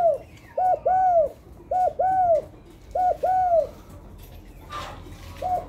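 Young spotted dove cooing in clear repeated two-part phrases, close and loud, several rounds at a steady rhythm with brief pauses, other faint bird chirps in the background.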